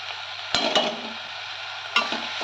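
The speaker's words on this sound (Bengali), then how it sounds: "সমস্ত মশলা ভালোভাবে কষে নেব।" Ground spices frying and being stirred for a moong dal egg tarka give a steady, soft sizzle, broken by a few sharp scrapes of a spoon against the pan.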